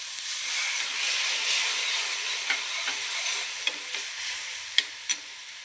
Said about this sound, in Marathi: आता परत एक आपण थोडंसं पाणी टाकू